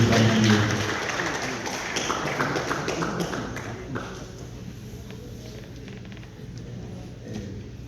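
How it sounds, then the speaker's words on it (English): A conference crowd at a health care symposium in Detroit, Michigan applauds, the clapping loudest at the start and thinning into scattered taps and shuffling as it fades. "Guys, give Dr. Tennessee a big round of applause."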